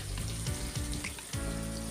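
Goat mutton for a curry fries in a pan with a loud, continuous close sizzle and a few soft stirring scrapes.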